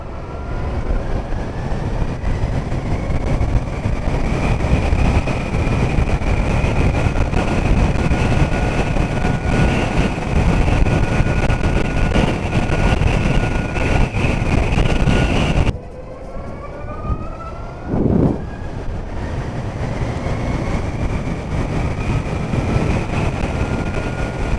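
A Zero SR/F electric motorcycle accelerates hard, a continuous loud rush of wind with a thin, rising motor whine. The sound dips briefly midway, then surges back.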